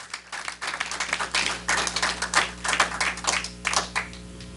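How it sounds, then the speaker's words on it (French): Clapping from a church congregation applauding God, a dense, uneven patter of many hands that swells and fades in waves, heard at moderate distance without talk. "Applaudissons pour notre Dieu."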